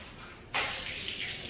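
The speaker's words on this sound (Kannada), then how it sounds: "24 hours ನೀರು ಬರುತ್ತೆ ಮೇಡಮ್" A tap in a government hospital is opened and water gushes out, a steady nearby hiss that starts suddenly and keeps running.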